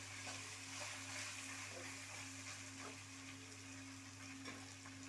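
Gongura curry masala sizzles and fries steadily in a pan, a continuous close crackle with occasional soft stirring scrapes and no talking.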